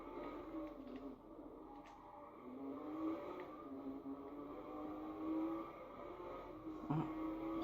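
In Watch Dogs, a Lamborghini drives through the city with a faint, steady engine drone that rises and falls a little as it moves, with a few soft clicks and no speech.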